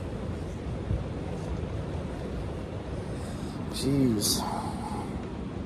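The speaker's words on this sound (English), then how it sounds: "The wind is moving the whole RV." Strong wind buffets an RV with a constant rumbling roar throughout, and a brief voice cuts in near the end.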